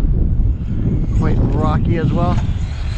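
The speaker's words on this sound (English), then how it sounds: "It is quite windy out here." Strong wind buffets the microphone at an outdoor RC track, a loud steady low roar throughout while someone talks over it.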